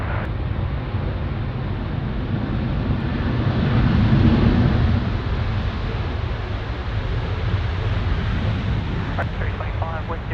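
A jet on the runway at Sydney Airport, lined up on runway 34 right, gives a steady, loud broadband roar that swells briefly midway, with wind buffeting the microphone and faint voices in the background.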